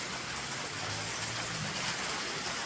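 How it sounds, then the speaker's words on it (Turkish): Heavy rain pours steadily outdoors, a dense continuous hiss of drops hitting surfaces with no pauses or voices, loud and close throughout. "şiddetli bir yağmur var sabahtan beri devam ediyor efendim"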